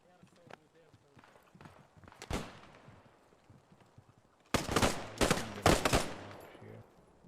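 Gunfire in a realism-focused war video game: a lone shot early on, then heavy rapid bursts of automatic fire in the second half, loud and close over faint background noise.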